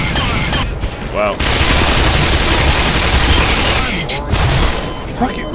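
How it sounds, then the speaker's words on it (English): A mounted machine gun in Black Mesa fires a loud, sustained rattling burst of rapid shots for about three seconds, followed by a few scattered shots, with a voice speaking at moments. "that machine gun is useless piece of shit"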